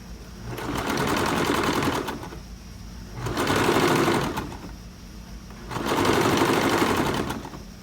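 A sewing machine stitches a blouse seam in three steady bursts, each humming for about two seconds with brief pauses between, close and loud.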